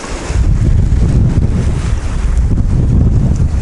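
Strong, gusty wind at a cold-weather tent camp with a stove buffets the microphone in a loud, continuous low roar with no voices.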